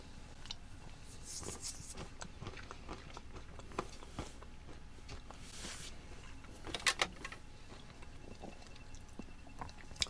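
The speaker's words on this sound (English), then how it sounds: "Still got a nice chew to them." Cashews from a U.S. military MRE ration, cheese pizza menu, are chewed close to the mic, with soft, quiet crunching and biting in an irregular rhythm and a few sharper crunches partway through, with no talking.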